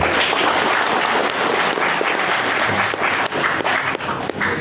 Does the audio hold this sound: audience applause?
yes